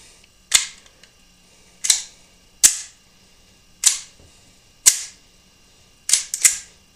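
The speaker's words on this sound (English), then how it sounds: "Put a couple of them in there. Show you, she'll load right up." Sharp mechanical snaps and clicks sound close by at roughly one-second intervals as snap caps are handled with a Ruger LCP II pistol and its magazine, with a quick double click near the end.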